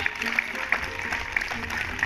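Hands clap about five times in an uneven rhythm during an outdoor yoga session at Nishkalank Dham, faint and spread out over a steady background hum.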